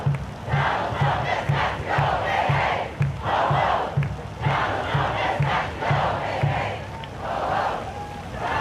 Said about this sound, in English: Chanting Donald Trump has got to go.